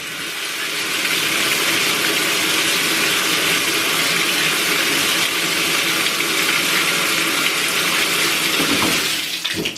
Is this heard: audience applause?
no